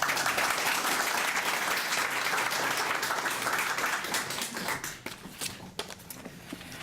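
Audience applause welcoming lecturer Steve Dryden at a spring lecture, a steady wash of clapping from a room of people that thins out and tapers off into scattered claps near the end.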